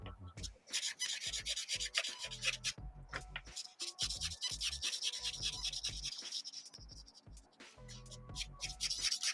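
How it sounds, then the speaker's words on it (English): Paint is scraped off a surface in short, uneven scratchy strokes that come in bursts with brief pauses between them, close and fairly quiet. "Scraping of paint accidentally"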